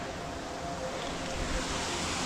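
Tinisikuwang Falls in Cebu, Philippines, gives off a steady, close, broadband roar of falling water that stays continuous and unbroken throughout.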